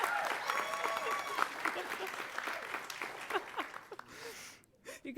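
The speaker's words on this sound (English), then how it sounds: "Pause for applause." Applause from an audience at a faith and justice award acceptance speech, a steady wash of clapping with some voices mixed in that thins out and fades near the end.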